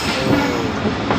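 Train running through Gakhar station in Pakistan as the Jaffar Express crosses the Tezgam Express, heard as a loud, continuous rumble of rail cars with steady clickety-clack over the full stretch, without speech.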